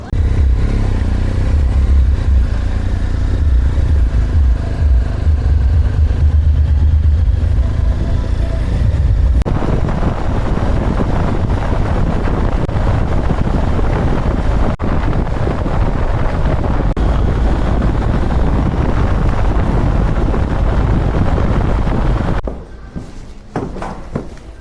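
Motorcycle cruising on a short ride, engine droning under heavy buffeting wind noise across the microphone, the engine note rising as the bike picks up speed, then easing off near the end.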